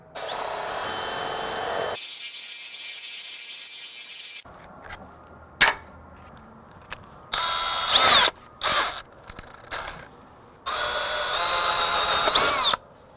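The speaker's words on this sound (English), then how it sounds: "I'll drill with a Forstner bit in there until we can fit our washer and nut." A power drill with a Forstner bit boring into wood in several bursts, whining loudly, stopping and starting again, with quieter pauses and clicks in between.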